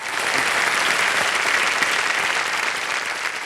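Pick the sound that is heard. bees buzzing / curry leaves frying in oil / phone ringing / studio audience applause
studio audience applause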